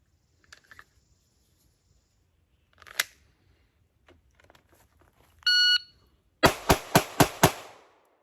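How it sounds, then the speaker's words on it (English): Five rapid, loud pistol shots from a stippled Glock 19 fired at 5 yards on a shooting range, following a timer beep and a few faint clicks, with no talking. "5 rounds with the Glock 19 with the stipple job as quickly as I can"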